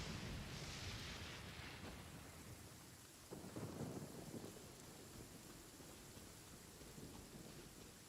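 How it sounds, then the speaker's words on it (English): Steady rain with rumbling thunder in the game Genshin Impact, a constant hiss of rainfall with a deep thunder roll swelling around the middle, fairly quiet and without any voices. "It's raining again."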